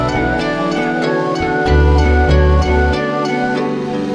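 Chopped sample built from three layered instances of the Arcade plugin for an experimental beat: dense, loud melodic loop with deep sustained bass notes shifting in steps and regular percussive hits, no voices.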